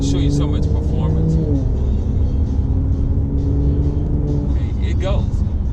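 A 2017 Mercedes-Benz SL450 accelerates with a smooth rising engine drone heard from inside the cabin, the pitch climbing through the gears, while someone talks over it.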